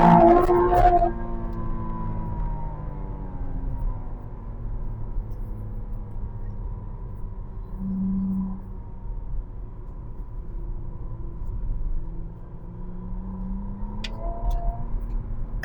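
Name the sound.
McLaren Artura Spider supercar engine while driving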